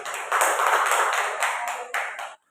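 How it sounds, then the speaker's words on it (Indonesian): Applause from attendees at a school teachers' meeting, a close, lively burst of many hands clapping that holds steady, then a final few claps before stopping abruptly. "Sekali lagi kita beri aplaus untuk kita semua."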